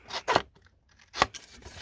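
Scissors cut through card for an egg-themed shaker card, giving two quick snips, a pause, then another firm snip followed by a softer one, close and clear without talk.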